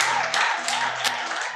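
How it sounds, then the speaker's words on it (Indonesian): Audience members at a Sunday church service clap together in a quick, fairly loud round of applause, claps blending into a dense patter with a few sharper accents over a low background hum. "Kasih tepuk tangan dulu, kasih semangat dulu"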